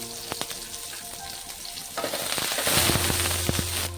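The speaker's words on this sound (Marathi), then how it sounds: "2 चमचे तेल टाकते, त्यावर पहिली मिरची टाकून घेते, म्हणजे मिरची आपली भाजली जाईल जरा" Green chillies crackle in two spoons of hot oil, with scattered pops at first that swell into a loud, dense sizzle and spattering halfway through.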